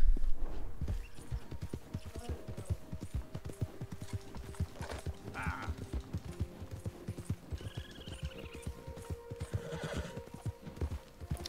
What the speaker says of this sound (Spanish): ¿Este es nuestro caballo?